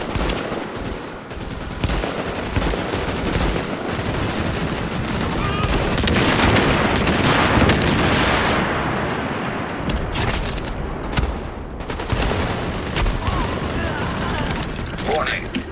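Sustained gunfire in the shooter game The Division, dense rapid automatic bursts and shots layered with game noise and a swelling rumble, with voices talking over it.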